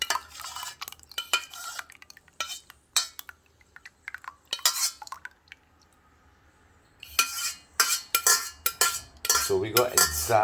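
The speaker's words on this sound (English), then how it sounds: "Sometimes I like to use a spoon and pull out a couple thick clumps with it" A metal spoon scrapes and clinks against bowls while scooping thick clumps of homemade Barbados-style seamoss gel, in bursts of close, sharp taps and scrapes with a quiet pause in the middle.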